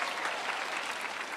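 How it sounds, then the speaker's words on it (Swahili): Steady audience applause at a school centenary celebration in Kiambu, a dense continuous patter of many hands clapping at a fairly even level, with no talk over it. "Tumpigie makofi tafadhali."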